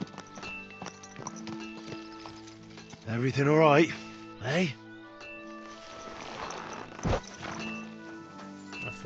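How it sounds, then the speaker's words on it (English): Horse in the video game Kingdom Come: Deliverance II, its hooves clip-clopping steadily while it lets out a loud whinny midway, with someone talking briefly over the scene. "That's a horse right there."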